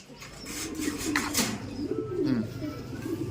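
Racing pigeons coo softly in a low, rolling murmur, several calls overlapping continuously against a noisy background.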